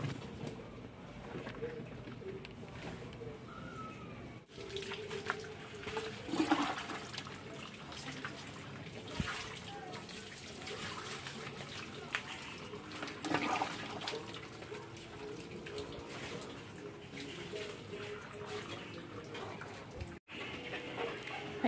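Running water splashing and pouring against a hard surface as a Bajaj RE is rinsed, uneven bursts of spray over a steady wash, close by, with faint birds in the background.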